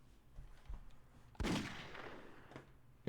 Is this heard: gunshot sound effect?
yes